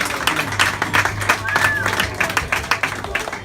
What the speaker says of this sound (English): Please give a big round of applause for Pete Steele